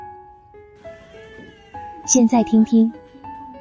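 A cat held down for an ultrasound examination lets out a burst of loud, drawn-out yowls and meows near the end, after a stretch of quieter tonal sound and a brief voice.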